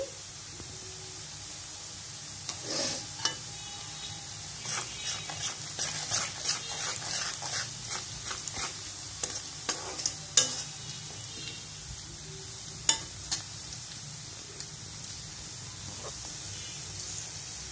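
Garlic fries in oil in a pan with a steady soft sizzle, broken by scattered crackles and spoon scrapes against the metal, all close up and moderately quiet, with no talking.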